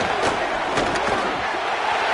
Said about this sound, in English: the crowd starting to rise up on this early 3rd and